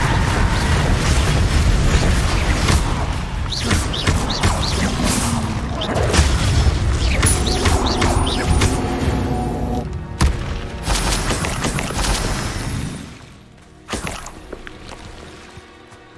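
Confringo fire spell blasts in Hogwarts Legacy, heavy booming impacts and crackling debris layered over a loud, dense game mix, ending with a final thud after a brief drop.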